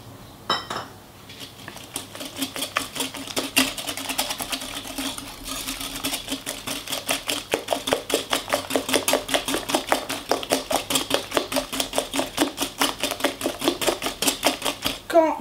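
Eggs being mixed with sugar in a bowl, a utensil tapping the bowl in a fast, steady rhythm of clinks that builds after a slow start and carries on close and clear.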